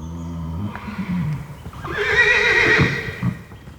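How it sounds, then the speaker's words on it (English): Posavian horses from a free-roaming herd in a Croatian river landscape whinny loudly, a low snort first, then a long quavering neigh rising and falling near the microphone, with faint hoof clops. "Despite all his enthusiasm for and commitment to his Posavian horses"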